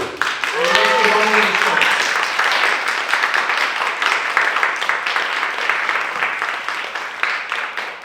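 Poetry slam audience applauds, a dense wash of clapping with some cheering that sustains steadily over eight seconds; a brief sung or whooped voice rises near the start.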